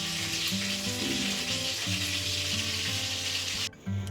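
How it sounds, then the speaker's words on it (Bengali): Fish and pointed gourd (potol) frying in a pan, a steady loud sizzle and crackle throughout with no talking, briefly cutting out near the end. "মাছটা ভাজা হয়ে গেছে আর পটলগুলো ভাজতে দিচ্ছি"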